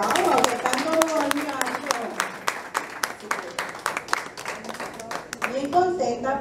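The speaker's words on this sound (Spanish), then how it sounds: "Así que, desde ustedes mismos un gran aplauso." Applause from the audience at a school parents' party, with sharp, scattered claps repeating throughout and lively chatter and children's voices running beneath them.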